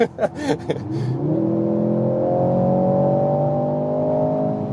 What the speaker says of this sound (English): when you go off the throttle, you also have some plop plop plop from the exhaust